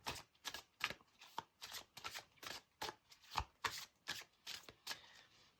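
Guidance cards being shuffled before one is drawn, giving quiet, rhythmic riffling snaps in steady short bursts, close and soft, with no voice.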